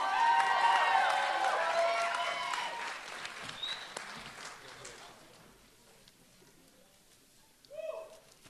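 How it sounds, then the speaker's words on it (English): A crowd at a high school graduation applauds the senior class, loud clapping at first that fades gradually, then a brief burst of other noise near the end. "One big round of applause to the largest senior class in Amy Buell history"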